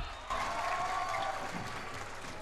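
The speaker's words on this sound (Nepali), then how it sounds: "त्यसैले अब यहाँहरूबाट एउटा एकदम जोरदार ताली जाओस्" An audience at the Miss Purwanchal 2011 beauty pageant bursts into applause after a brief quiet start, then keeps up a steady, dense wash of clapping to the end with no clear talk over it.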